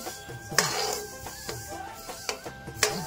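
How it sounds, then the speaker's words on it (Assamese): Sesame seeds roast in a hot wok with a ladle or spatula, making sharp scraping and clinking strokes about every half second over a faint dry crackle, close and fairly quiet. "এয়া মই কেৰাহীটো গৰম হোৱাৰ লগতে তিলখিনি দিছো আৰু দি লৈ ধুনীয়াকৈ এয়া মই অলপ সময় এনেকৈ ভাজিম।"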